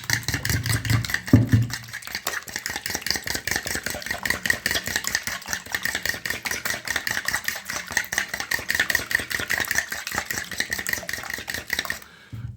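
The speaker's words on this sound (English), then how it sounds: "we're just gonna beat the 6 eggs. Beat them finely." Six eggs being beaten finely in a bowl, a rapid, even run of whisking taps going on steadily for about twelve seconds, close by and with no talk.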